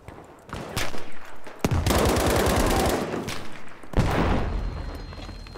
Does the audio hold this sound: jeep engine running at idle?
no